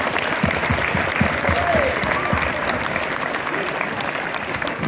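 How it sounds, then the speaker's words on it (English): An audience at a football media day applauds a coach, dense steady clapping from a sizable crowd that holds evenly through the whole stretch, fairly close and loud, with a few voices mixed in. "Coach Jackson, a round of applause for everything he does for you guys."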